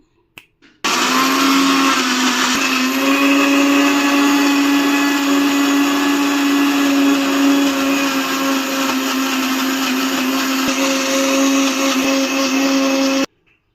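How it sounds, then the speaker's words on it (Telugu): A mixer grinder blends mosambi juice with three spoons of sugar, a loud steady motor whine running continuously for about twelve seconds after a brief start, then cutting off. "మూత పెట్టుకొని మిక్సీకి వేసుకుందాము"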